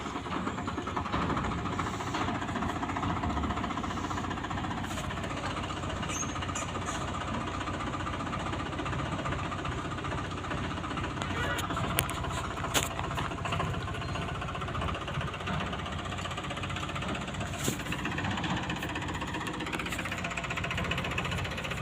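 Farm tractor approaching at evening with its engine running, a steady loud rumble with knocking undertone continuing throughout, no voices.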